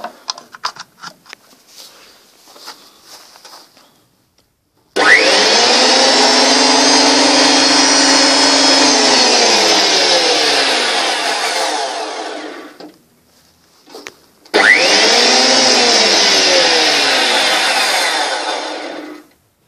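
A new 2014 JET JWP-12 thickness planer on its first start-up: a few faint clicks, then a loud steady whining roar that winds down, followed by a brief pause and a second run of the same motor.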